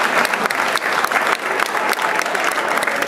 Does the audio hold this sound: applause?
yes